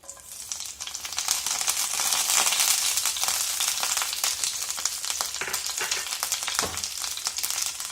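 Curry leaves hit hot coconut oil in a pan for an eggplant fry, giving a loud, steady sizzle and crackle that runs nearly eight seconds, with small pops and bursts on top and no voices.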